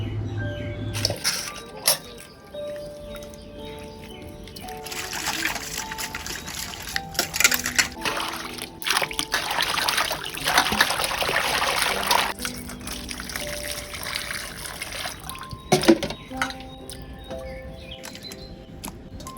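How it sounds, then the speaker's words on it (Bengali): Fish being washed by hand in water: close trickling, splashing and sloshing with scattered clinks of a vessel, moderately loud and continuous with brief pauses. "এখন মাছটাকে খুব ভালো করে আমি ধুয়ে নিয়ে আসবো"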